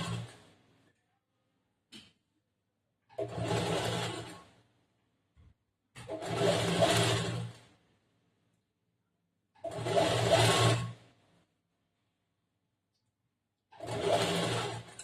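A sewing machine stitches a kinari edge along a frock's neckline in four separate bursts of whirring, each a couple of seconds long, with quiet pauses between them.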